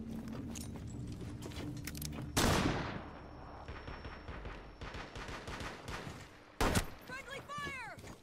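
Gunfire in the Terrorist Hunt video game: loud broadband bursts of shots around the two-second and near-seven-second marks over a busy game soundscape, with scattered smaller cracks between them.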